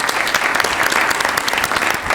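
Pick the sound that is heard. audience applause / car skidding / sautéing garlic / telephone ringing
audience applause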